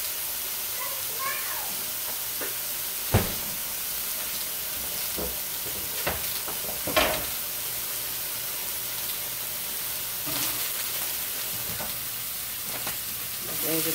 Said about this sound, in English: You hear that sizzle? That's what you wanna hear, guys.